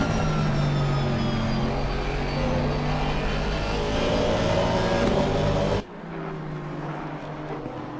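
Aston Martin and McLaren race cars circuit racing at Kyalami, a loud sustained engine roar with shifting pitch that drops off abruptly near the end to a quieter distant drone.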